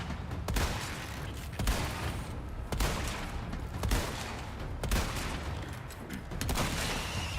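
Gunfire from the Resident Evil 4 remake, a loud volley of sharp shots at about one-second intervals over a dense, rumbling game backdrop, with no talking.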